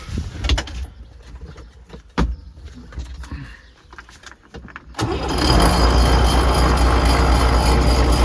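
An MTZ tractor engine cranks and fires up after a few clattering knocks, then settles into a loud, steady drone from the power take-off with a rattling lever and a persistent hum.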